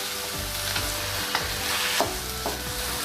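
A spoon stirs chayote, egg and carrot with chicken broth in a hot pan, scraping in a steady rhythm over a constant close sizzle, with a few sharper knocks against the pan.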